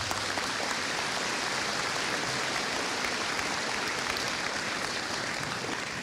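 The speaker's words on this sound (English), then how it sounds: "Let's give them a round of applause." Steady applause from a large audience at a high school graduation ceremony, a dense continuous patter of many hands clapping at moderate distance without voices.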